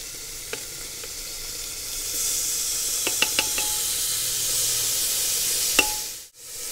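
Finely chopped capsicum and carrot sizzle loudly in a masala base, a steady hiss marked by a few sharp pops, then cutting off briefly near the end.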